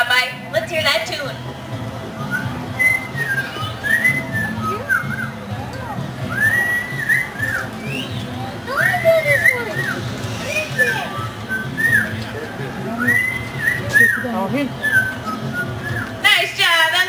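At a Marine World bird show, a parrot whistles the Andy Griffith Show theme as a series of clear, melodic whistled phrases over a noisy, reverberant background, with a person talking over parts of the tune.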